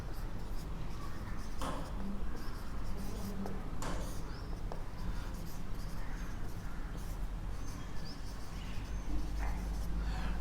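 Density formula being written on a board, with quiet scratchy strokes and a few sharp taps at irregular intervals over a low background hum.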